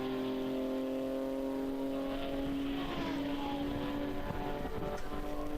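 Touring and GT race cars, including a BMW GT4 and a Lamborghini GT3 Trofeo, pass at BalatonPark during an endurance race, engines droning steadily and swelling slightly as they go by, with no talk.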